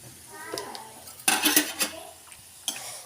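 Chili powder stirred into food in a metal pan, with sharp clanks and scrapes of a spoon against the pan in irregular bursts and a faint sizzle beneath.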